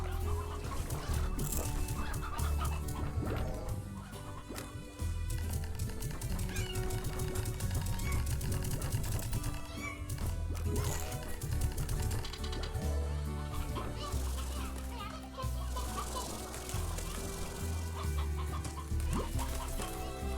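Chickens cluck repeatedly in the video game Slime Rancher, busy overlapping clucks under a dense layer of game music and effects.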